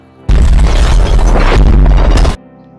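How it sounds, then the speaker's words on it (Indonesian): A single loud, roaring explosion bursts in, sustains a heavy rumbling blast for about two seconds, then cuts off abruptly. "semua ruangan itu meledak bagaikan di bom atom"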